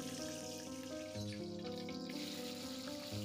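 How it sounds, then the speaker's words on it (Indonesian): Tempe and tofu frying in hot oil, a steady, soft crackle and sizzle continuing without a break, faint and close, with no talking. "Untuk goreng tempe dan tahu ini teman-teman, saya nggak terlalu kering ya"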